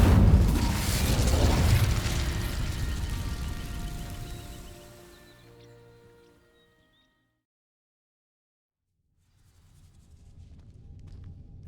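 In the video game Hogwarts Legacy, an Incendio fire spell ignites dry vines with a loud whooshing burst and crackling roar that slowly fades to silence, followed by faint movement.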